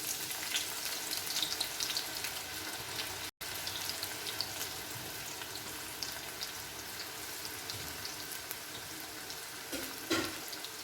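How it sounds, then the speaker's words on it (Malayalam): Sliced onions hiss continuously in hot oil for crispy fried birista, a dense, even sizzle with a brief dropout early on and a faint scrape of stirring near the end. "എന്നിട്ട് നമുക്ക് ഈ എണ്ണയിലേക്ക് ഇട്ട് കൊടുക്കാം"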